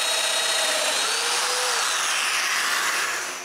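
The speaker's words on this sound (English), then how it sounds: "Next, I cut all the mortises." A power tool cutting domino-joint mortises in wood for a bathroom vanity frame, a loud, continuous high-pitched motor whine with bright broadband noise, close and steady before easing off at the end.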